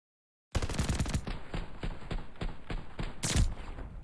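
Rapid automatic gunfire in a competitive online shooter match, a loud sustained burst of shots beginning abruptly after silence, with a sharper blast near the end.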